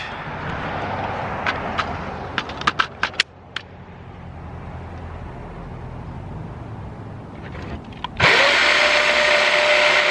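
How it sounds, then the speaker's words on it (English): A saber saw cuts a starter hole in an aluminum step van roof, a steady buzzing drone with a few sharp ticks and clacks, then a louder, harsher cutting roar near the end. "I'm gonna try the saber saw next"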